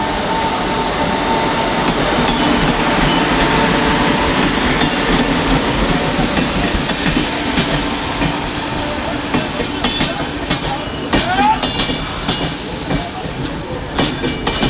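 The Pashchim Express train pulls away from a station platform in India, with a loud, steady rumble of rolling rail cars and clickety-clack of wheels over joints carrying on throughout, plus some hiss.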